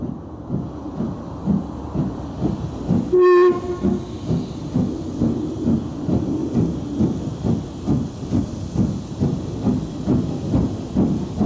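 Steam locomotive 6201 Princess Elizabeth hauls a train on the Midland Railway at Butterley, working hard with a steady rhythmic chuffing and hiss throughout, broken early by a loud, brief steam whistle blast.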